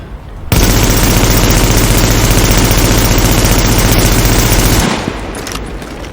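Assault rifle with a 65-round magazine firing in The Division, one long, loud, unbroken burst of rapid shots lasting several seconds before cutting off abruptly.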